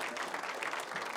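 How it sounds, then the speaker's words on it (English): Brief burst of audience applause, dense and even, heard faintly for just over a second. "Round of applause."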